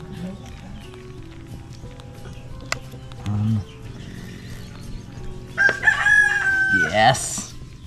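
A rooster crows at a distance on a rural property outdoors, the call rising partway through over faint background noise and a few soft knocks.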